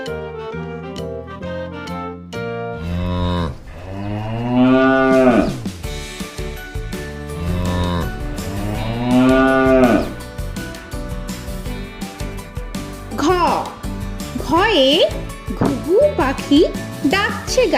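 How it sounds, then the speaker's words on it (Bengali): A cow and calf moo several times over a children's alphabet rhyme, with long drawn-out lowing calls rising over the music and singing. "গয়ে গরু বাছুর দাঁড়িয়ে আছে"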